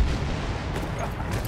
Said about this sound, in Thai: เสียงระเบิดที่ดังกลางวัน